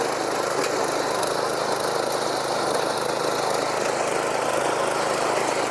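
A power weeder and reaper machine runs in a farm field, its small engine droning steadily and loudly without pause, with a constant buzzing vibration throughout.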